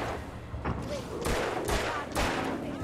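Gunfire from the video game Alan Wake, several heavy booming shots at a steady pace over a thick roar of game sound, loud and close.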